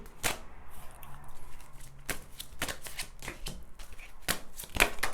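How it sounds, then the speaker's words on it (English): Tarot cards shuffled by hand at close range, giving a series of crisp, papery riffling bursts at irregular intervals over a quiet room, with no talking. "I'm going to shuffle these cards"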